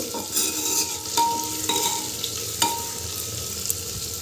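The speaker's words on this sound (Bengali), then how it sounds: "চিনিটা দিলে কালারটা মাংসের খুব ভালো আসবে এভাবে এক একবার নেড়ে দেব" Mutton with a pinch of sugar frying in a handi, with a continuous close sizzle and periodic stirring scrapes and light clinks of a spoon against the pot.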